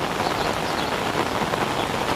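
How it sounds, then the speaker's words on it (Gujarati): Heavy monsoon rain pouring down near a village temple, a dense, loud, continuous hiss of rain on surfaces with no pauses. "આજ બહુ વરસાદ છે"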